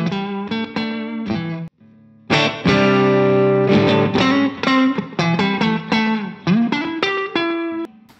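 An electric guitar plays a clean, bright phrase of plucked notes and short chords through a CKaudio Court Jester overdrive pedal, with a brief pause before a ringing chord.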